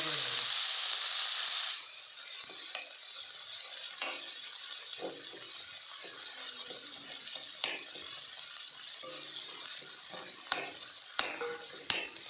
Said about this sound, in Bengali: তেল গরম হয়ে গেছে, এই যে ঠন ঠন করে উঠেছে। এটাকে আমরা ভালো করে একটু ফ্রাই করে নেব।